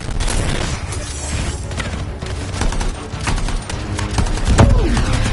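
Dense gunfire and booming blasts fill a battle in the video game Anthem, with steady loud shooting throughout and a heavier impact near the end.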